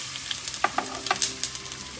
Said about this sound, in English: we are going to start off by the lightly caramelized onions. Add in the ginger garlic.